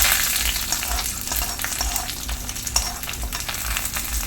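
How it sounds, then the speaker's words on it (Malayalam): Hot tempering poured into a Kerala-style coconut crab curry and mixed in: a loud, continuous crackling sizzle close by, with rhythmic stirring and scraping running through it. "താളിപ്പൊടി ഒഴിച്ച് നമ്മൾ മിക്സ് ചെയ്യും"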